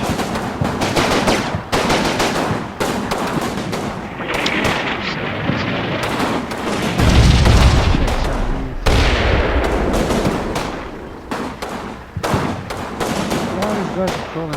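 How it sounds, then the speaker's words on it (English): Artillery barrage in the Normandy-set wargame Combat Mission: Battle for Normandy, a rolling mix of heavy booms and rapid gunfire, with louder thumping impacts midway. "I'm really waiting for this 6mm barrage."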